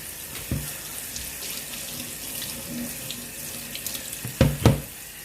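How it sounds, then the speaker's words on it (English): Cold tap water runs steadily from a kitchen faucet onto freshly cooked macaroni noodles in a sink, a continuous close splash with a few louder clunks and splashes near the end. "we're going to use a little cold water to stop the cooking process"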